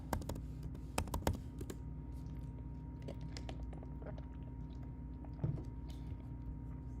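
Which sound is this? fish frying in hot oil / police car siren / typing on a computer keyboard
typing on a computer keyboard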